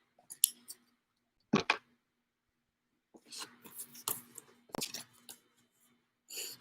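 A deck of tarot cards is shuffled by hand during a live card reading, giving close, crisp papery riffles and short flicking bursts separated by brief pauses.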